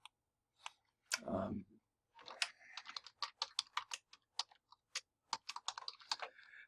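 A file name is typed on a computer keyboard in quick, irregular bursts of crisp key clicks, close and fairly quiet, with a brief breathy sound near the start.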